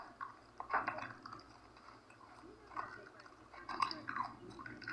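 Chewing gum close to the mic, soft wet smacking and squishing bursts in an irregular rhythm, quiet, with faint murmuring under it.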